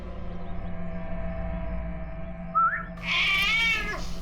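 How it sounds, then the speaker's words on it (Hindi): A cat lets out a brief meow, then a longer, louder wavering meow, close by over a low background hum. "ये है वो बिल्ली"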